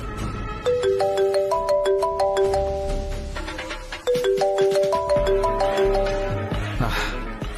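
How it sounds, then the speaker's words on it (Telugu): A mobile phone ringtone plays a bright electronic melody that runs through once and then starts again at a steady, fairly loud level, with low background noise beneath it. "ఫోన్ లిఫ్ట్ చేసే వరకు చేసేలానే ఉన్నాడు"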